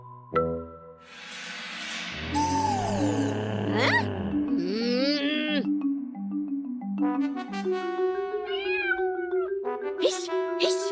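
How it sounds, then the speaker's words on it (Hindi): A cat meows repeatedly in an Indian household setting. The calls are loud, drawn-out and wavering, come close together, and are heard alone with no talk over them. "हिश, हिश, अरे भाग कलूटी बिल्ली"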